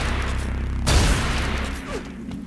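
A sharp burst of gunfire at a compressor objective in Unreal Tournament's Riverbed assault map, one sudden loud blast over a low rumbling background that trails off over a couple of seconds.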